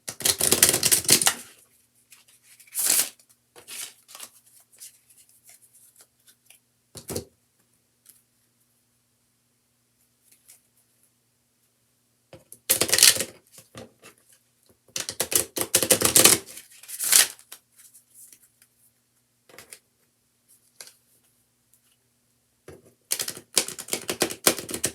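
Stiff tarot cards being shuffled, sharp bursts of riffling and snapping clustered in uneven groups with long quiet gaps between, close up, no talking.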